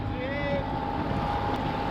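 A tiny speedboat motors across open water on the Bristol Channel, its engine a steady close drone mixed with heavy wind buffeting, with a faint tonal whine early on.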